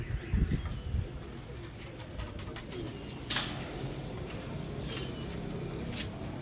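Pet pigeons coo softly in a loft, the low calls faint and partly buried in rustling background noise, with a few sharp knocks and no speech.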